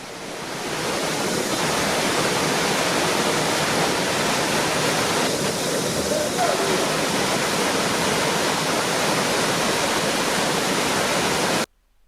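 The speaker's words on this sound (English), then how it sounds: "The water was a torrent at the bottom." A Costa Rica waterfall rushes and roars continuously into a torrent at its base, a loud broadband wash, steady for the whole stretch before cutting off abruptly.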